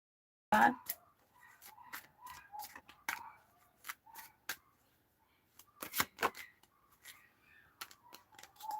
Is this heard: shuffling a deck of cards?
yes